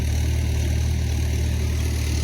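A tractor engine works a rain-soaked, muddy rice paddy, a steady loud low drone with a constant rumbling hum and no change in pace; no one speaks.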